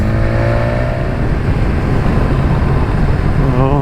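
A 2019 BMW S1000XR motorcycle engine revs hard and close, a loud continuous roar with rising and falling pitch as the throttle is worked, no voices.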